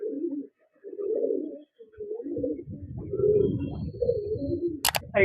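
Pigeons coo in repeated low, throaty phrases, a breeding pair of pigeons close by, with a brief flutter or clatter near the end.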